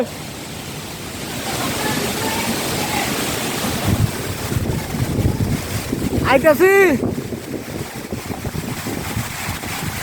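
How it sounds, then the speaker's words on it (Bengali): Strong gusts of a Kalbaishakhi storm roar across a rooftop in a continuous buffeting rush, with a brief shout from a person midway through. "হিউজ পরিমাণের বাতাস"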